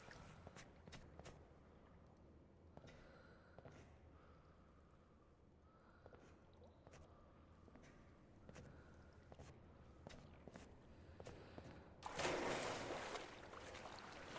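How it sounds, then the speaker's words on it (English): Soft footsteps in a liminal spaces video game, faint, evenly paced light taps in a quiet space, ending with a brief louder wash of noise. "you can hear your footsteps, but you're not stomping"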